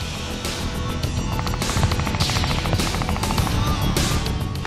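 Gunship live fire demonstration, with rapid cannon gunfire in dense bursts over a steady roar of aircraft engines, loud and continuous throughout.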